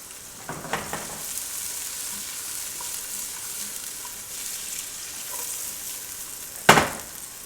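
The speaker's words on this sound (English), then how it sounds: "The onions are caramelizing" Onions caramelizing in a pan for adobo chicken, a soft steady sizzle close by with a few faint taps early on and one sharp loud clatter near the end.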